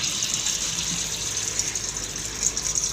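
Water rushes steadily into a toilet cistern through a newly replaced float valve, a continuous close hiss and gush with no talk.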